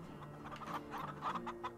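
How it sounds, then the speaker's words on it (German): Plymouth chickens in the farming video game Farm Together cluck in soft, irregular bursts over a quiet background. "Diese komischen Plymouth-Hühner"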